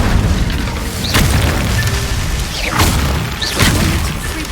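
Three loud, booming whooshes sweep down in pitch over a dense rumbling bed as fire-spell blasts from the Hogwarts Legacy video game go off at a roughly even pace.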